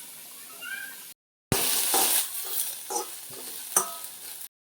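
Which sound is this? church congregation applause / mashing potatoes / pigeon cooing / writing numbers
mashing potatoes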